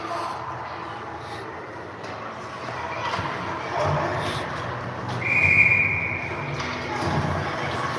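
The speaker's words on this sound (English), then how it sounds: "they're going to blow the whistle here, as I think that one was offside." A referee's whistle blows once sharply at a youth U13 ice hockey game, a brief shrill tone over rink noise, crowd murmur and thuds, with talk nearby.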